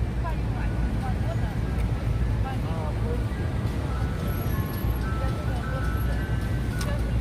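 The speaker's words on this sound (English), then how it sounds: "As we hear ice cream trucks in the background" An ice cream truck's jingle plays in a New York City street at sunset, tinkling through a loud wash of traffic and city noise, with people talking.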